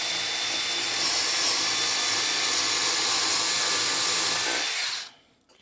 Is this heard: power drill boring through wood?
yes